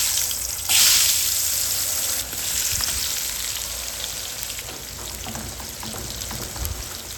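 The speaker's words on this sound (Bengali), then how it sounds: "ভালোভাবে মিক্স করে আলুগুলাকেও ভেজে নিব" Potato pieces fry in hot oil in a pan for a rui fish curry, producing a loud, continuous hiss and crackle with a brief louder burst near the start and faint stirring.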